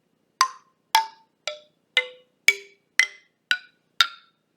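Tank plank struck with a mallet around its outside, eight separate bright metallic strikes at a steady, even pace, each a short ringing tone on a different pitch that fades quickly, close and alone.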